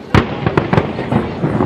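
Fireworks burst at a July 4th celebration in Washington, DC: several quick, sharp cracks follow one another over a rumbling background, loud and fairly close.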